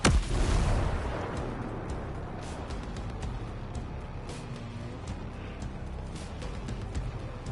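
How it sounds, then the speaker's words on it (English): Gunfire through a wall in a video game: a loud burst of shots right at the start, then a low rumbling battle ambience with faint distant pops. "He's shooting through the wall?"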